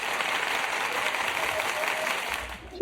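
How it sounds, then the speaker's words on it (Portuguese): Applause sound effect on a Portuguese-language podcast, a dense steady wash of clapping held at even loudness for nearly three seconds before it cuts off abruptly. "deixa eu ligar aqui as palmas."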